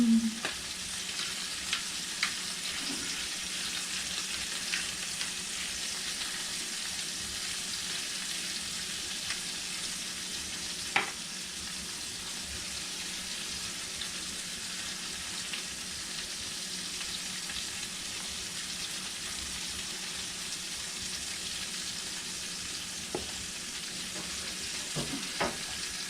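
Chicken browning in a frying pan gives a steady, even hiss of sizzling fat for a long stretch, with only a few faint clicks and pops on top, close but low in level and with no one speaking.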